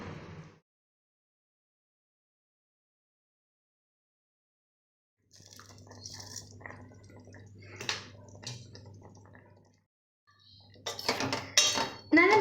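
Sodhi, a Tirunelveli coconut-milk side dish, is stirred in a metal pot with clinks of a spoon against the pot. The scraping comes in two stretches, separated by a long silence, and ends with a louder burst of clattering.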